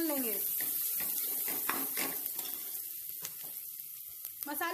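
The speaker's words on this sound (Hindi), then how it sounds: "मसालों को 1 मिनट के लिए तेल में भून लेंगे" Spices frying in oil in a pan for keema aloo, a soft close sizzle with faint clinks and a brief watery trickle, fairly quiet and steady.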